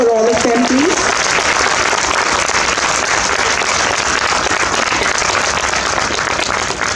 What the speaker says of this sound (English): Can we have a huge round of applause for all of them, please?